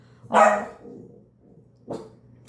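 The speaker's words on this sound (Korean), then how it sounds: "어쨌든 멍멍이 때문에" A dog barks twice indoors, one loud, full bark followed by a quieter, shorter second bark after a pause, with a low steady hum underneath and no talking.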